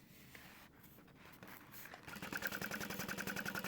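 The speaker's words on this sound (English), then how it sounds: "I'm gonna sew this in place" After a quiet stretch of handling sounds, a sewing machine starts up and stitches a tote bag in a fast, steady mechanical rattle, close and clear, with no voices over it.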